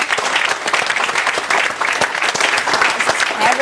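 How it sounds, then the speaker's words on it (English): An audience claps for a student at a stuttering school, a lively, moderately loud burst of steady hand clapping with crisp individual claps running throughout. "Stand up for your clap."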